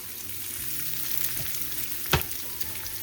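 Whole green onions lightly sautéing in olive oil in a pan, a steady soft sizzle with a brief louder crackle of stirring midway, close and alone.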